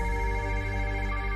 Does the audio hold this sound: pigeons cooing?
no